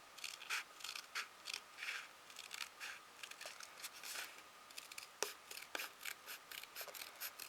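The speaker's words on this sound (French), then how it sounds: "Donc je vais couper au niveau du petit trait." Small mini scissors cutting paper along a marked line, a quiet, close series of rhythmic snipping crunches repeating steadily.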